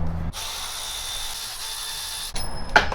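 A power tool spins bolts out of a truck's oil pan, giving a steady whirring burst of about two seconds followed by a few sharp mechanical clicks, close by.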